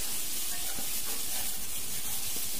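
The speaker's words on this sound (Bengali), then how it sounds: "মশলাগুলোকে আবারও একটু নেড়ে চেড়ে ভাজা ভাজা করব সবজির সঙ্গে" Spices and vegetables for bhoger khichdi frying in a pan while being stirred: a constant loud, dense sizzle with faint rhythmic scraping of a spoon underneath.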